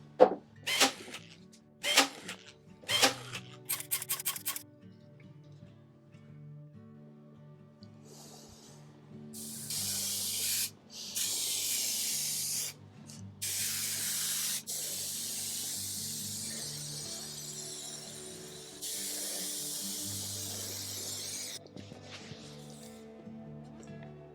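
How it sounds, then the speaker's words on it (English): Several short hissing bursts of spray adhesive onto fabric at the start, then longer sustained sprays, close by, with faint background noise between them. "I'm gonna use this spray adhesive"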